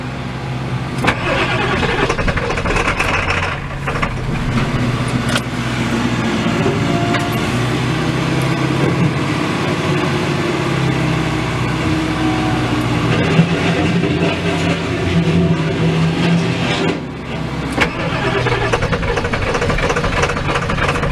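A Ford F-350 XL 7.3L Powerstroke turbo diesel cranks and struggles through a very hard start, a loud, continuous, rough mechanical roar filling the whole stretch with little variation.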